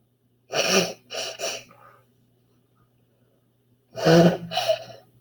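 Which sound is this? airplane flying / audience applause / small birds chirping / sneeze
sneeze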